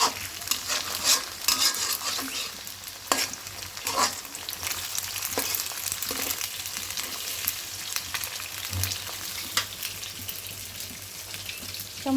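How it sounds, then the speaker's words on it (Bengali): Noodles stir-fried in a pan, a continuous close sizzle with scattered scraping and clinking of stirring throughout, no talking. "আমি এখন নুডলস রান্না করে নিচ্ছি"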